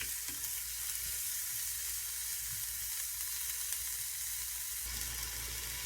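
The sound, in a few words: garlic sizzling as it is added to the pan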